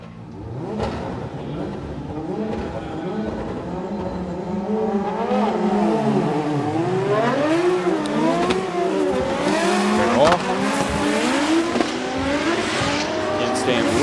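A GR Corolla and a Lexus IS 500 drift tandem at Okayama International Circuit in a Formula Drift Japan top 16 battle, engines loudly revving and wailing with tire squeal as they transition, under steady commentary.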